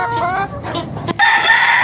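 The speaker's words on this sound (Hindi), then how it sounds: "दुनिया का सबसे खूबसूरत तरीन मुर्गा" A Paper White Heera rooster crows loudly and close, in one drawn-out call with a rising, strained finish.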